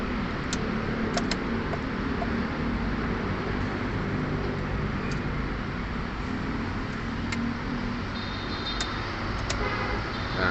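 Toyota Avanza engine idling steadily with a dense low rumble throughout, a few faint clicks and ticks on top, no voices.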